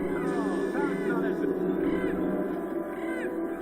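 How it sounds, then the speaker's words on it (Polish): Crows caw loudly and repeatedly in the video game Gothic II, their harsh calls rising over a steady, dense game background. "te wrony się wydzierają strasznie"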